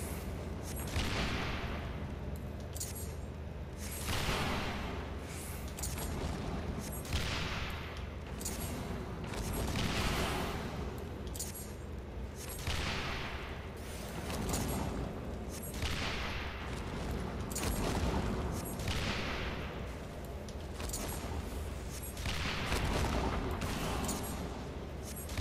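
Repeated cannon volleys in a Final Fantasy XIV fight on The Steps of Faith, a steady string of loud booms every second or two, layered over continuous battle din without any clear pause.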